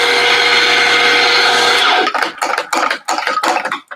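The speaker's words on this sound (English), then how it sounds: "Oh, I need to plug in my grinder." An electric coffee grinder whirs loudly and steadily as it grinds espresso beans, then for the last two seconds the tone breaks into uneven pulsing bursts and rattles as it runs close to empty, with no talking.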